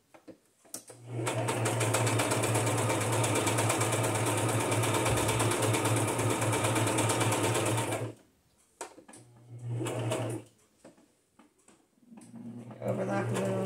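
Sewing machine stitching journal cards with pink thread, a loud, steady mechanical whir running for several seconds, then stopping, followed by two shorter bursts of stitching separated by pauses.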